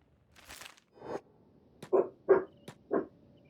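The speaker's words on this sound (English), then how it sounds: "Mr. Yoda, you needn't be barking" Several dog barks in the video game Kenshi, five short separate yaps over a few seconds, moderately loud against a quiet background.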